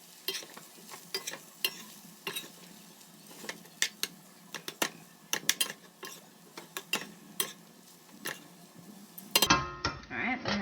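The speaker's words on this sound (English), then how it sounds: "mix our rice with our shrimp and our vegetables, give it a nice stir, let it start frying up" Shrimp fried rice with vegetables is stirred in a pan, a steady run of utensil scrapes and clinks over a low sizzle, with a louder rattle near the end.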